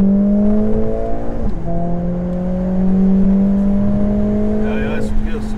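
Synthetic engine note of a Mercedes-AMG A45 S 4MATIC+ with an eight-speed dual-clutch gearbox, piped through the cabin speakers, holds a steady drone with one gear-change dip, while voices talk over it.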